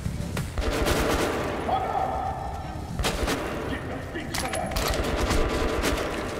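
Scattered gunfire in the video game Metro: Last Light, several sharp shots and a crackling volley over a steady noisy background, moderately loud.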